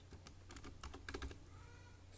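Keys clatter on a computer keyboard in a quick burst of light taps, faint and close, then trail off into quiet room tone.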